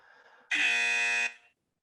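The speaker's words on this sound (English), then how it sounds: "I'm going to get my buzzer ready" A single loud electronic buzzer sounds, a harsh steady tone held for nearly a second before cutting off, close and alone against a faint background hum.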